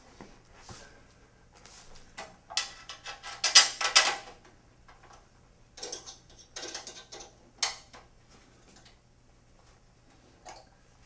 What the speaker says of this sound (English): And then we can tighten them all down.